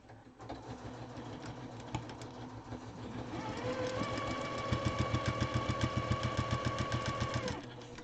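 A sewing machine stitches a quilt-as-you-go quilt block, its needle hammering in a fast steady rhythm that speeds up midway and stops near the end, close and alone without talking.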